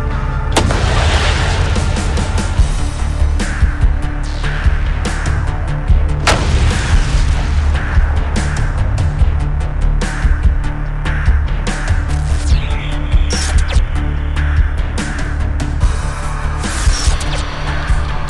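A Shershen anti-tank guided missile strikes its target in a military test, bringing sharp explosive blasts and booms over a dense, loud roar that carries on and off throughout, with several strong impacts standing out.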